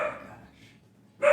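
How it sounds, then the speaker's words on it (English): A dog barks at a neighbor indoors: one loud, close bark opens, then fades into quiet before a second sharp bark bursts in at the end. "What's he barking at? The neighbor."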